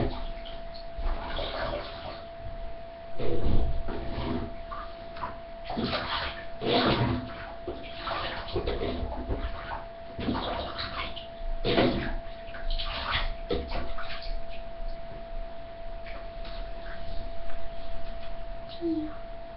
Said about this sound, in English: I'm going to pour the water on her to get the soap off.